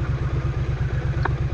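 A Triumph Street Cup motorcycle engine while riding, a steady low pulsing thrum with a brief higher sound partway through.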